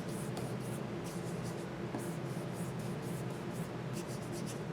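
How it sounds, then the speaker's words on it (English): Pencil sketching a pot outline in a drawing, soft continuous scratching strokes with light rhythmic texture, close and quiet. "I'm going to actually sketch in my pot."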